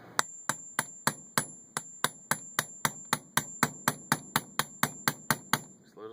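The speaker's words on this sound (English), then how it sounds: "Taps with a hammer." A hammer taps a stuck pin out of an Iver Johnson 16 gauge break-action single-shot shotgun: about twenty sharp metallic strikes in a steady, even rhythm, close and alone.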